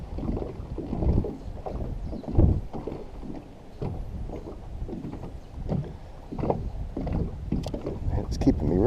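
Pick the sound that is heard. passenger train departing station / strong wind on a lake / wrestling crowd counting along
strong wind on a lake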